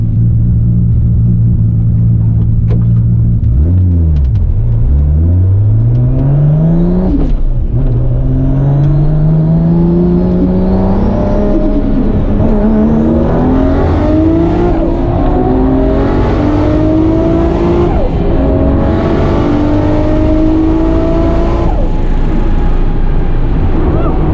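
A 1300hp Mustang in a race with a Supra, its engine idling roughly, then revving up hard and pulling through rising gears, loud and close in the cabin, while a voice talks faintly underneath.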